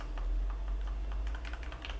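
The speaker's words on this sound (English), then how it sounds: "the smallest touch, and the key activates" DrunkDeer A75 magnetic keyboard with Jade Pro or TTC POM switches tapped with a feather-light touch, giving a quiet run of soft, close clicks that quicken into a dense flurry of keystrokes.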